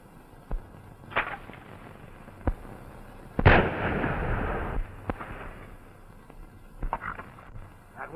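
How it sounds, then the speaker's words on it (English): Gunfire in a 1935 western film: scattered sharp cracks, then one loud shot with a long, echoing tail, followed by a few fainter pops. "That was a shot, wasn't it?"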